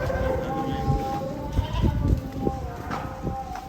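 Goats bleating amid the lively noise of a cow show, several calls rising over a dense crowd hum with voices talking nearby.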